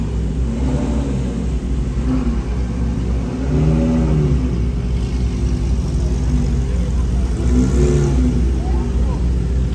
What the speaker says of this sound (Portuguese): esse carro deve ter um ronco absurdo. GT3.